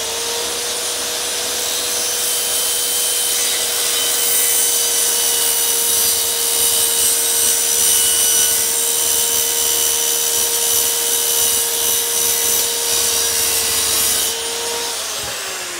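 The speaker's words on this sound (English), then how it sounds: "Or you can cut it in the chop saw." A chop saw slices through plastic tile trim, a steady, loud motor whine with a gritty cutting rasp that holds evenly for about fifteen seconds before spinning down at the end.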